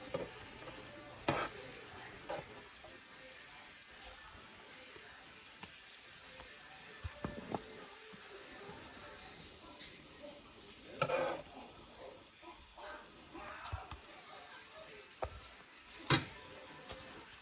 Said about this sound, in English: Just giving it one more little stir.